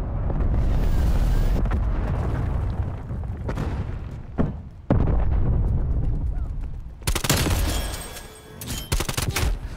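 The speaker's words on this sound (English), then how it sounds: "Enemy cruise missile launch detected." Enemy cruise missile strike in Call of Duty: Cold War, a sustained roar of heavy rumbling blasts and crackling gunfire that fills the scene, with sharp bangs and a burst of bright debris noise near the end.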